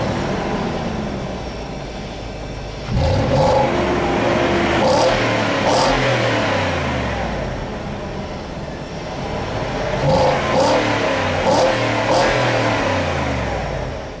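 A Range Rover L322's engine revs through its exhaust in a steady, loud drone, climbing in pitch as it accelerates, easing, then building again, with no talking over it.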